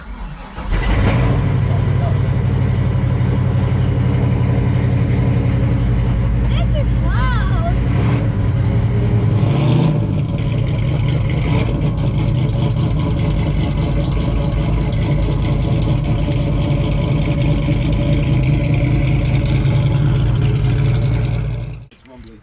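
A big-block car engine rumbles at a deep, steady, slightly low idle close by, revving up a few times, with a voice talking over it at moments.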